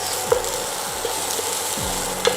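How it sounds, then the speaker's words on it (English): Brussels sprouts and corn sauteing in a pan, a steady close sizzle and frying hiss throughout with occasional light clinks of stirring. "Keep sauteing it for around 10 minutes"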